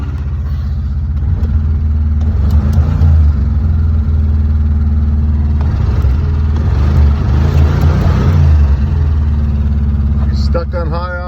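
A G-body car engine, cold with the choke on and burning off some old oil, runs on a steady high idle up close, with brief voices over the continuous rumble.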